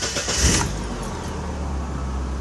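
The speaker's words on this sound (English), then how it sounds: "listen to the smoothness of some brand new spark plugs and wires" A car engine fitted with brand new spark plugs and wires cranks briefly and catches, then settles into a smooth, steady idle, heard loud and close.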